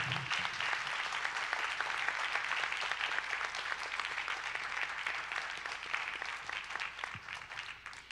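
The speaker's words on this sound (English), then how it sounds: "Okay, now you can applaud." Audience applause at a San Antonio City Council District 1 candidate forum, a steady wash of many hands clapping that holds strong for most of eight seconds, then thins slightly near the end.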